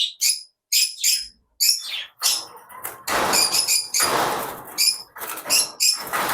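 Pet lovebirds and green-cheeked conures chirp in sharp, repeated bursts, near and fairly loud, with brief pauses early on giving way to a denser flurry of calls and rustling.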